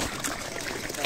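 Water splashes steadily into a water filtration decanter tank, a continuous close trickling rush with a person talking over it.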